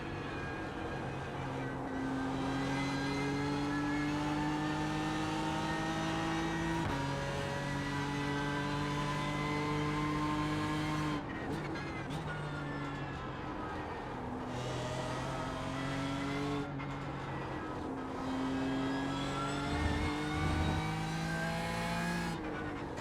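BMW M4 GT3 race car in iRacing, its engine howling through repeated upshifts and downshifts with stepped pitch changes, steady and prominent, with brief braking and tyre noise between gears and no talking.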